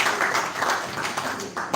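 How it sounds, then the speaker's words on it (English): A crowd at a university event in Delta State, Nigeria, claps steadily throughout, a dense wash of hand claps with a few louder individual claps standing out near the end. "he deserves a better round of applause"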